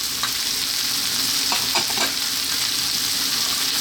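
Baby corn and peppers stir-fry with other vegetables in a hot pan, giving a loud, dense, continuous sizzle with a few quick clattering stirs in the middle, close up and without speech.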